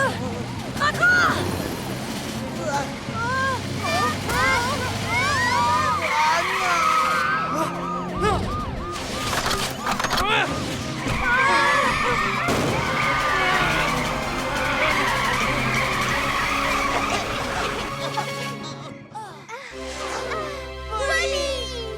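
A cartoon car drives fast and skids, with loud tire squeals and engine noise from an animated children's show, mixed with music and character voices talking throughout.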